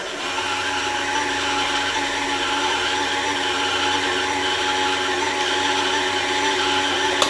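A sewing machine motor running steadily while winding a bobbin, a continuous high, even whir that holds at a constant loud level throughout with no speech over it.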